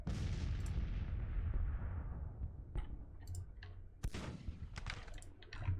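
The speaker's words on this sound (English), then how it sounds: "With our mighty cannons, we're just blasting them all away." Cannon fire booms across a Civil War battlefield in a strategy game: a heavy opening blast decays into a rumbling wash, then scattered sharper cracks and thuds of artillery and musketry follow at varying distances, with no voices.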